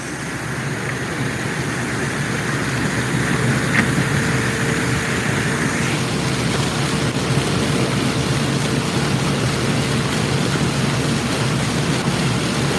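Steady tractor engine drone heard from inside the cab while hauling corn, a continuous low rumble with broadband hiss at constant loudness throughout, no talking.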